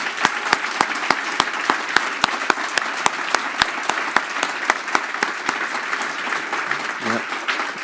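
Steady applause from a crowd at an annual forum, a dense wash of clapping with sharp individual claps standing out, continuing throughout.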